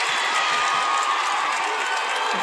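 A basketball crowd at a high school boys state Class 2A title game erupts in a loud, sustained roar of cheering and shouting after a layup, dense and continuous throughout.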